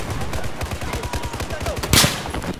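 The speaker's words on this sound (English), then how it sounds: "And I get shot by that CS5." Rapid automatic gunfire in the Battlefield 4 video game on the Dragon's Teeth maps: a steady, evenly spaced stream of shots that runs throughout, with a louder, sharper burst near the end.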